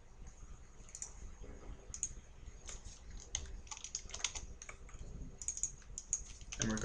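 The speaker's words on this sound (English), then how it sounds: "And we're gonna type some HTML." Typing HTML on a computer keyboard, rapid irregular key clicks in quick bursts, close and quiet with no talk.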